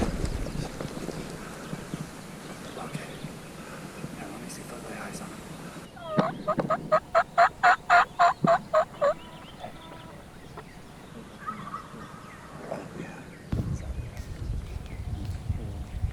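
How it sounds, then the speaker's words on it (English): A distant wild turkey gobble rings out as a rapid rattling burst, heard faintly across a canyon amid wind noise and low rustling. "We've spotted a couple turkeys across the canyon."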